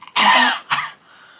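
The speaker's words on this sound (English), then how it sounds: "Why is she coughing?" A woman coughs twice close to the microphone, a loud harsh first cough followed by a shorter second one, then quiet.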